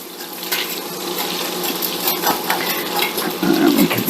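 Butter or fat melting and being stirred in a pan for chicken etouffee, a steady close scraping and sizzling texture with a louder stirring burst near the end, no talking.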